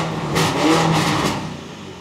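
A Mansory-kitted Lamborghini Urus SUV with 650 hp, armored, set to Corsa driving mode on a track, gives a short rising engine rev that swells and fades over about two seconds, heard alone with no talk.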